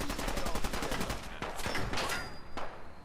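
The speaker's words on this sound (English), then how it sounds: "Who else is shooting me?" Rapid bursts of automatic gunfire and scattered single shots crackle through a firefight in the video game Fallout 4, loud and sustained for several seconds with no talking over it.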